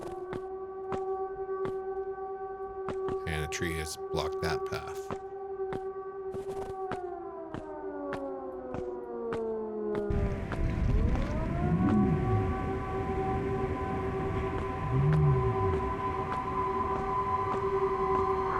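Wailing air raid siren in a video game holds steady tones, then sweeps downward and swells louder in the second half, droning continuously with someone talking briefly over it.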